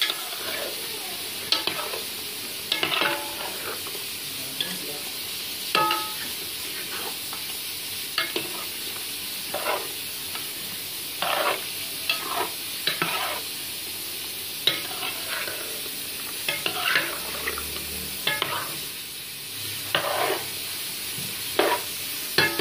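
Star anise, cinnamon sticks and black pepper fry in oil in a pan, giving a soft continuous sizzle. Frequent scraping stirs with a spoon come through the whole time, close and moderately quiet.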